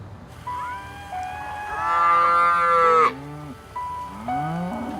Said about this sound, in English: We heard about 3 cattle off to our right, and they were calling back.